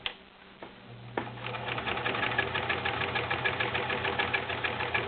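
A 1980s Kenmore convertible domestic sewing machine stitches through four layers of denim, a steady rapid mechanical chatter of needle strokes running continuously after a few brief starting clicks, close and loud with no talking.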